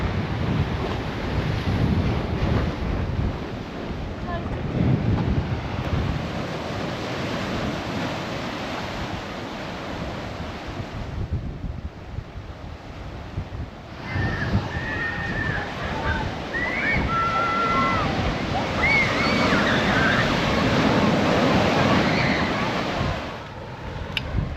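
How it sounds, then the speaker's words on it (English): Strong wind buffets the microphone along a coastal cliff path on the Isle of Wight, a loud continuous roar mixed with the wash of surf below, briefly easing midway before gusting again. "we're doing a lot of walking into the wind as well"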